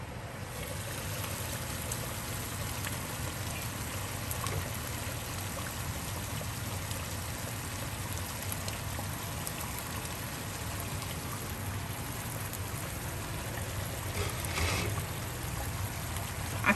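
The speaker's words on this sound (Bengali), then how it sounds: "আমি যে ম্যারিনেট করেছিলাম তার ম্যারিনেশনের ভিতরে একটু জল দিয়েছি, ঠিক 2 কাপ মতো জল দিলাম" Water is poured into marinated meat in a cooking pot, a steady, even rushing and trickling wash that carries on without a break for over fifteen seconds, with a few faint knocks and no talking.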